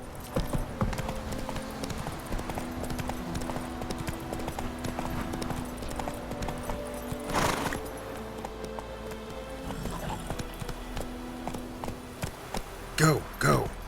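Horse hooves clip-clopping in The Witcher 3 video game, a steady rhythmic trot of repeated hoof strikes at moderate distance, mixed with game ambience and a few louder thumps near the end.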